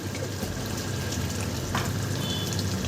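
Sizzling jackfruit curry stirred in a pan with ghee and garam masala, a steady nearby frying hiss layered with moist scraping and a short metallic tap near the middle, without speech.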